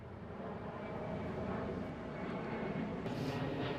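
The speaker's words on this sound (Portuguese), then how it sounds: "Pausa para avião." A low-flying airplane roars steadily overhead in the Campolide district of Lisbon, a dense broadband rumble that holds loud and unbroken throughout.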